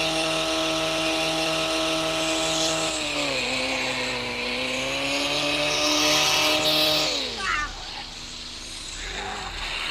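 Car engine in the Car Simulator 2 video game, a steady revving drone that holds its pitch, dips briefly, then drops away near the end as tires squeal faintly, with no talk over it.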